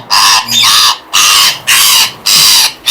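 Loud, harsh squawks from pet parrots close by, four or five long raucous calls separated by short gaps.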